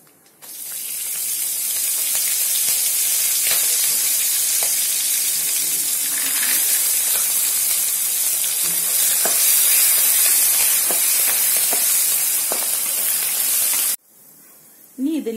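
Peanuts and green chilies frying with urad dal in hot oil, a loud, steady sizzle close by that runs continuously before cutting off abruptly near the end, with faint stirring scrapes.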